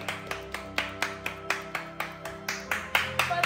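Sparse, slightly uneven claps ring out for Sergio Ammani at an Italian birthday gift celebration, roughly a dozen sharp hits over a steady background hum, thickening into a brief burst of applause at the end.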